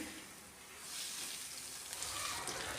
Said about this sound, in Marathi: आता त्याच पॅनमध्ये मी तीन ते चार चम्मच हे तेल टाकून घेते आणि आपण वाटण केलेले सर्व यामध्ये मी टाकून हे छान असे परतून घेत आहे